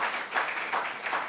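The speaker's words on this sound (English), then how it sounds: "A round of applause for both teams before we move on." An audience at a school quiz competition between senior high schools claps briefly, a soft, steady patter of applause in a hall.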